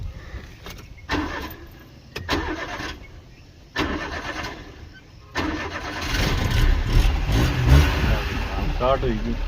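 A 2010 model car engine cranks a few times, catches, and settles into a steady idle, while voices talk over it.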